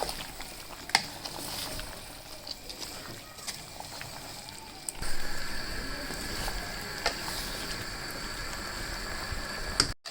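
Chicken with ground onion cooks in a pot until the water dries off, giving a steady low bubbling and sizzle with scattered ticks and a brief clatter near the end.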